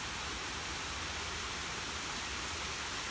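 Water pours steadily over a desert waterfall, a dense, even rushing hiss with no breaks or other sounds.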